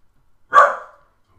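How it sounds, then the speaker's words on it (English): A dog in the room gives a single short, sharp bark that stands out clearly against silence. "Freaking dog making cameos and shit"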